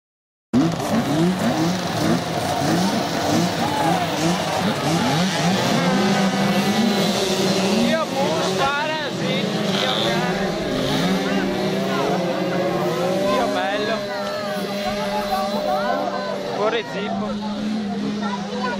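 Racing mopeds lining up on a starting grid rev and buzz in a busy chorus, pitches rising and falling, with someone talking over the steady mechanical racket.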